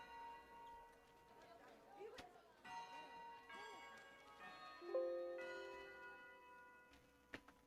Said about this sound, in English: At that moment, the bell rang.